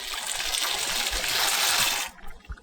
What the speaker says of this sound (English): Now that the water's boiling, we're going to add our noodles.